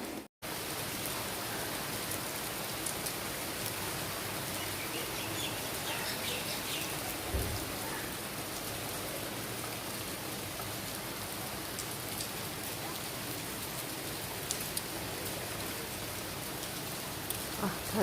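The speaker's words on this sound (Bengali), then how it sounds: "না চলো বৃষ্টি দেখাবো।" Rain falls steadily outside a window, a broad, even hiss of drops on surfaces that stays constant at moderate level throughout, with no talking.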